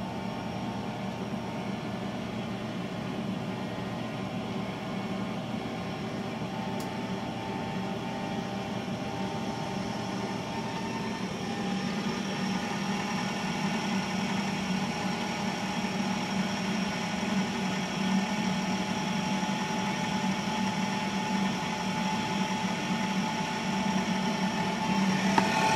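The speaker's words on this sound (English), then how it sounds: "As you can hear the boiler spin up" An NTI Trinity Ti100 gas boiler's fan spins up as the unit fires. It makes a steady, rough whirring drone that swells slightly louder partway through and holds there, close and continuous, with no talking.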